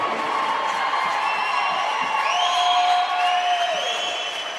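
Crowd in the bleachers at a volleyball match cheering after a service ace, a steady mass of voices with whoops and whistles rising and gliding above the roar.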